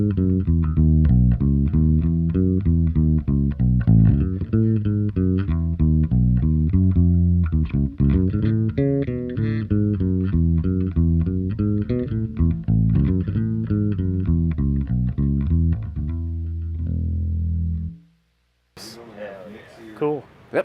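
A homemade maple and oak bass with carved, stacked humbucking jazz bass pickups plays a loud, continuous, melodic line of distinct notes for about eighteen seconds before cutting off, with some brief sounds afterward.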